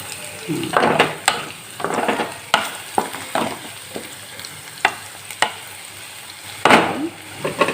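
Potato pieces sizzle softly in a pan as a utensil stirs them, giving repeated scraping strokes and sharp clinks against the metal at an uneven rhythm.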